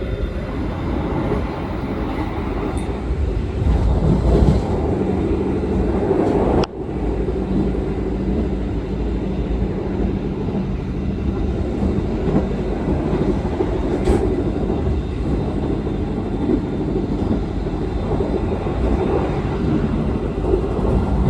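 Executive KA Kertanegara train speeding along noisy rails, a loud, continuous rumbling roar of wheels on track heard from inside the carriage with steady clatter throughout and no talking.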